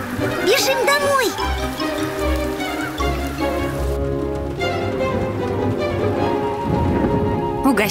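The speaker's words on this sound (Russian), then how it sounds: "Дождик, бежим домой." Steady cartoon rain in the animated Luntik series hisses continuously, with low rumbles beneath and character voices speaking over it early on.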